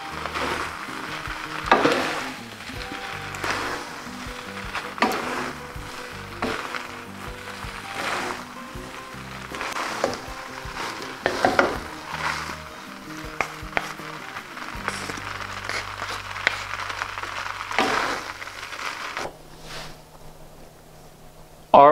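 Red pepper flakes sizzling in hot olive oil while being stirred, a continuous soft frying hiss under music with occasional scraping stirs.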